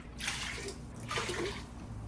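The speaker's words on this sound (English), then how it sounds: "So I'm going to add 3 cups of water to my 6 cups of sugar." Water is poured from a cup onto six cups of sugar in a kitchen: two short splashing pours, close and fairly soft, separated by a brief pause.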